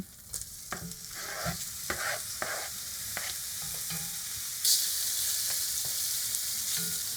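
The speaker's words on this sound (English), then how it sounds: "now I'm just going to add a little bit more butter and then the rest of our meat" Lamb meat sizzles in butter in a pan for a lamb stew, a steady close hiss swelling louder partway through, with intermittent scrapes and taps from stirring.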